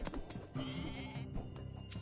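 Goats in the Age of Mythology video game give several quick, wavering bleats in succession, clear and close against faint background game sound.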